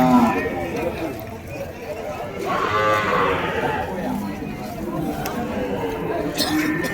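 Cart bulls at a busy cattle market low with a deep, drawn-out moo over a murmur of crowd chatter, while someone talks close by throughout.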